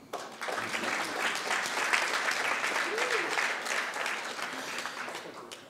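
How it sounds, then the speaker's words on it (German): Audience applause for the Rahul family fills a hall at a charity gala in Frankfurt, a dense, even wash of clapping from a crowd that runs steadily for several seconds. "gesamte Familie Rahul, denn einen Applaus"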